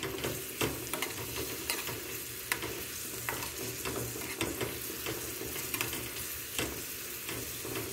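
Onions frying in a pan while being stirred, a continuous close sizzle broken by frequent scraping and clattering knocks of the utensil against the pan, with no talking.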